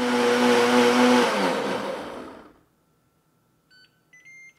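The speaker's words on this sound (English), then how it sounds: "we get the blender lid on here, turn it on, and I'm just gonna go to the smoothie" A Ninja Foodi blender runs on its smoothie setting, its loud whirring motor steady and close before winding down and stopping, followed by a few quiet electronic beeps.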